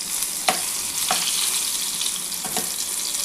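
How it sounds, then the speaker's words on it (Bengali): Eggplant pieces frying in oil for a hilsa fish curry, a continuous close sizzle with a few sharper pops and spatters standing out from the steady hiss. "এগুলো একটু ভাজা হয়ে গেলে আমি বেগুনগুলো তুলে নেবো"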